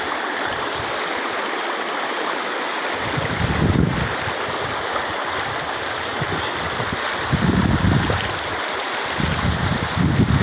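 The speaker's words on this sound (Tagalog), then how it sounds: "Ganda ng ilog, oh." A river flows steadily in a broad, continuous rush of water, with a few louder low surges and no voices heard.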